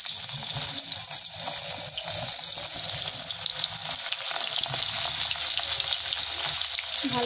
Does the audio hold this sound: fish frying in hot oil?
yes